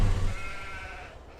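A single sheep bleat in the farming video game Farming Simulator 22, a short wavering cry over a steady wash of game background noise that fades.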